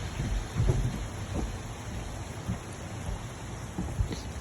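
Steady heavy rain falls during a thunderstorm, with low rolling thunder rumbling several times under the constant hiss of the downpour.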